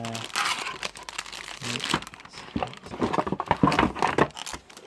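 SteelSeries Apex 3 RGB gaming keyboard packaging being opened, with close, steady crinkling and rustling of wrapping and cardboard, mixed with occasional talk.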